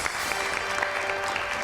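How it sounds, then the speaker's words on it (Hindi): Studio audience applause welcoming a chef guest on a TV show, a brief steady patter of clapping at moderate level throughout. "बहुत सारी तालियां बजाइए इनके लिए।"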